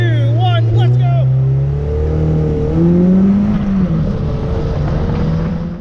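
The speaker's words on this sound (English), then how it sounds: "As soon as I launch, the clutch gives up the ghost and starts slipping" NC Miata engine revving hard on launch at an autocross event with a slipping clutch, a loud sustained drone rising and wavering in pitch, with a voice speaking over it at the start.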